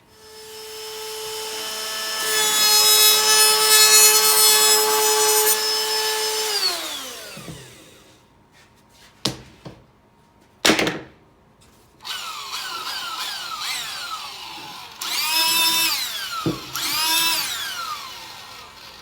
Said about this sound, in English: we're gonna use this bit. This is a 1/2 inch round over.